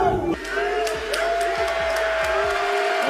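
A packed WWE wrestling arena crowd roars and cheers continuously, a dense wall of whoops and yells that swells after a brief opening, with deep rhythmic thumps underneath.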